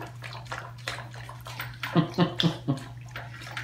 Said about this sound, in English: Hey, you drink too much water.